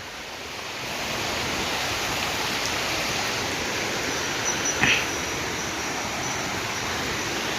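Water flows steadily in a hillside stream, a continuous close rushing wash that stays even throughout, with one brief faint sound breaking through near the end.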